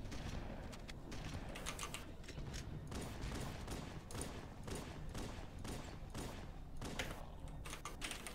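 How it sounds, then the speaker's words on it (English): Rapid bursts of shotgun fire in Halo: Combat Evolved, dense, repeated blasts crowding one another through a constant roar of battle, loud and close without pause. "I'm going to fire my shotgun here to get the flood to follow me"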